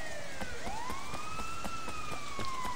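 A police car siren wails in the open-world game Sleeping Dogs, its rising and falling tone sweeping steadily over a rhythmic series of sharp ticks, fairly loud and with no speech.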